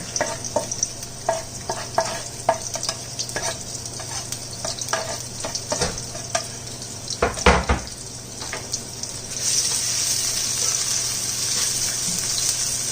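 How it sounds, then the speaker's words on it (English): Chopped onion, garlic and Scotch bonnet pepper sizzle in hot oil in a pot for vegan Jamaican stew peas, a close, continuous frying crackle punctuated by sharp stirring knocks and clicks, with a louder hissing rush near the end. "Add and drop in our onion, garlic, and Scotch bonnet at this time."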